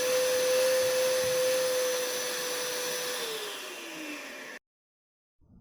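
An iQ426HEPA dust extractor vacuum runs with strong suction after pulling in drywall dust, giving a steady loud whooshing roar with a whining tone that sags slightly in pitch before cutting off abruptly, no speech.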